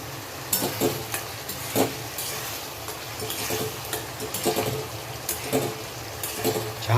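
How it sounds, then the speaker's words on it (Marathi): Egg masala with water added bubbles and sizzles in a pan, a continuous close wet simmer broken by repeated stirring and scraping knocks. "हे बघा मी याच्यात पाणी टाकलेलं आहे. आता मस्त उकळत आहे."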